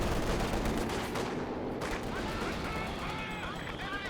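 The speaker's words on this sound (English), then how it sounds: "now that's a mortar for Emperor" Mortar fire and surrounding gunfire rumble through a Company of Heroes 2 2v2 battle, dense overlapping blasts and crackling shots at steady loudness, with a commentator talking over them.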